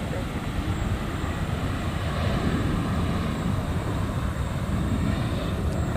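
A fixed-wing airliner takes off at LAX, its engines a loud continuous broadband roar that holds steady throughout, heard from a distance with no pauses.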